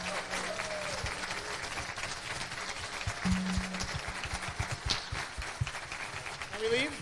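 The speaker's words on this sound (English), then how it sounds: "Can I get a round of applause for all of our participants?" A convention audience applauds panel participants with sustained, dense clapping and some cheering, while people keep talking over it and the crowd noise rises and falls.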